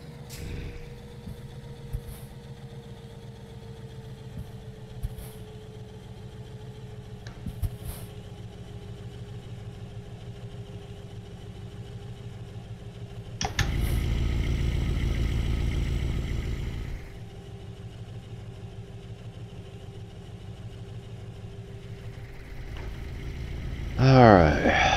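Mercedes truck engine in Euro Truck Simulator 2 on Promods, a steady low idle-like drone with a brief louder roaring surge partway through, and a voice talking faintly at times.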